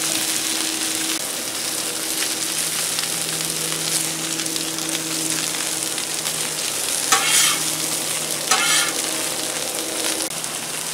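Okra frying on a Blackstone griddle with a splash of water added, giving a steady close sizzle and hiss throughout, with a couple of brief louder spitting bursts near the end; no talking.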